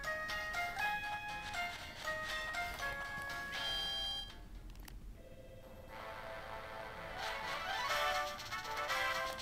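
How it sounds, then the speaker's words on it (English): A phone ringing indoors during a Pokemon Soul Silver gameplay session, electronic tonal rings in repeating bursts with a short gap partway through, moderately faint and mixed with game sounds. "Sorry about that, guys. That was just the phone."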